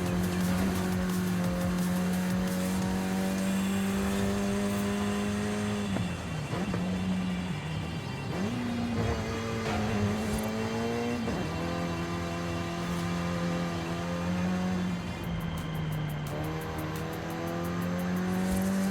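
A rear-wheel-drive swapped hatchback in Forza Horizon 5 drives with a steady, loud engine drone, pitch dipping and rising through gear changes, with occasional tire noise.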